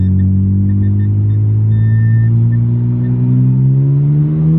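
A Mazda RX7 rotary engine pulls hard through second gear, a loud, smooth, rising drone that climbs steadily in pitch with no break.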